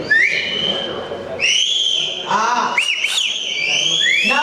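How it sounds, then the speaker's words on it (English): An audience at an animal trailer launch event whistles in loud, overlapping rising and sliding tones that come in waves, with a brief vocal exclamation among them. "Keep whistling."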